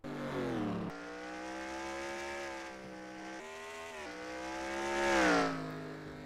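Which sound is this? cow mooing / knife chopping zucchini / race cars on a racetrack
race cars on a racetrack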